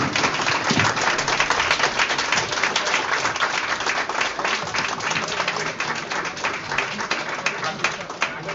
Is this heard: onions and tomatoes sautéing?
no